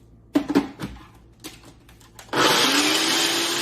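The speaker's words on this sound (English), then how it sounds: "And I'm just going to grind these up right in my Ninja blender." A Ninja blender grinds flax seeds: a few clattering knocks of handling first, then the motor kicks in with a loud, steady whirring roar up close.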